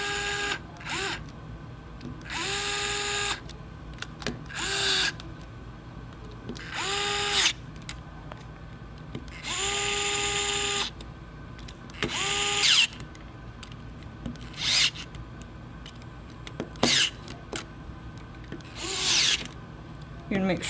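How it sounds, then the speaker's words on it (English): A power driver tightens screws on a 3D printer extruder in repeated short whirring bursts that rise and stop, with quiet gaps between and occasional small clicks. "Okay, so now we're just going to tighten these screws down."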